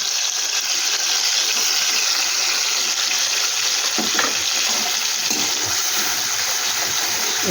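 Ginger and green chilli paste frying in a pan, a loud dense steady sizzle with a spatula stirring through it now and then, no voices.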